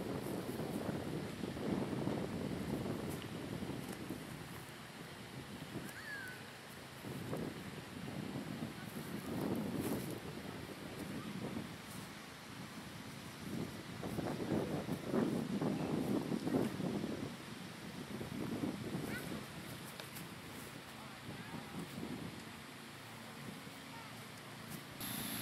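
Gusty wind blows across an outdoor disc golf course at Benders Landing, buffeting the microphone in uneven rumbling surges that swell and ease throughout with no clear speech.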